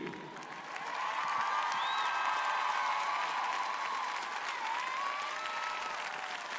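A French crowd in Angers applauds a figure skater at a Grand Prix de France women's short program event, steady dense clapping that swells after a moment and holds loud and sustained throughout with a few faint cheers.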